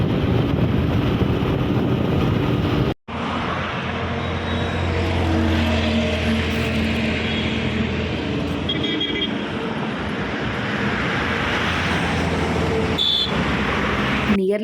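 A motorbike rides a long highway stretch toward Vizag, producing a steady, loud wash of engine and wind roar that cuts out for a moment near the start and then carries on unbroken.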